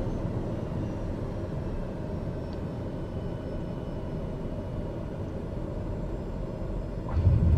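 Steady low turboprop drone of a TBM engine throttled back to idle on landing approach into a long mountain runway at Jackson Hole, Wyoming, in a flight simulator, continuous and even, with a brief louder thump near the end.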